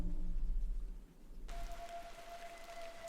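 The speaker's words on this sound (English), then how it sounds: "Oh, and of course it's raining here" Steady broadband rain hiss fills the scene in the video game Incantamentum, falling on the isolated moorland village of Beaulieu; a continuous wash with a faint tonal hum entering midway, no voices.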